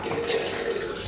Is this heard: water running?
yes